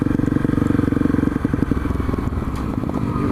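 Motorcycle engine on a road ride, a loud rapid pulsing exhaust throb close to the mic, with the rhythm shifting as the revs change partway through.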